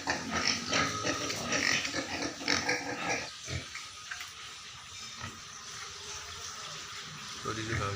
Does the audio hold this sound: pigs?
yes